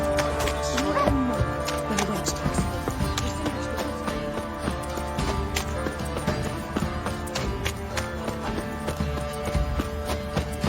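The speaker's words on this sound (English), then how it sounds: "Time to water the horses." Horse hooves clip-clopping in The Witcher 3 video game, a steady run of hoof taps over a dense, continuous bed of game music and ambience, with a brief whinny-like tone early on.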